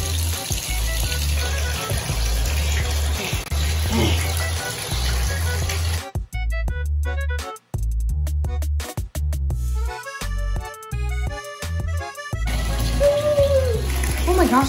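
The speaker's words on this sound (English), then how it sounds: "let's just turn on the water" Water runs from a tap into a bathtub as a steady rushing fill. Voices speak over it at the start and end, and a stretch of plinking music plays in the middle.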